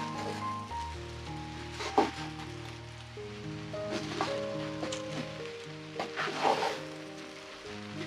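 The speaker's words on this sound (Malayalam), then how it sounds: "ഇനി നമുക്ക് ഇതെല്ലാം കൂടി ഒന്ന് മിക്സ് ചെയ്തെടുക്കാം" Mixed fried rice with vegetables and sauce is stir-fried in a pan, giving a steady sizzle with scraping stirs and a few sharper clatters, close and moderately loud with no talking.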